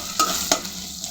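Dried fish and onion with green chillies sizzle in a pan, a steady close frying hiss broken by two sharp spoon scrapes.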